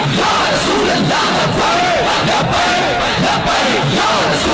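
A large rally crowd chants religious slogans in unison, loud massed voices rising and falling in repeated rhythmic shouts that fill the space.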